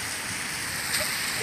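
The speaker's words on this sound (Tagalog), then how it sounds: "Konting ulan." Light rain patters steadily on a flooded street, a soft, even hiss with no voices.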